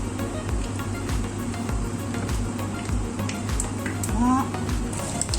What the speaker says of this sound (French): Et on va les faire frire.